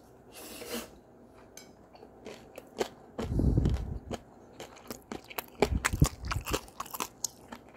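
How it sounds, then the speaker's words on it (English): Someone eating Hawaiian chicken cake noodles up close, loud crisp bites and crunchy chewing in an uneven rhythm, with a heavier munching burst in the middle and rapid crunches toward the end, no talking. "And you feel the crunchiness of the noodle."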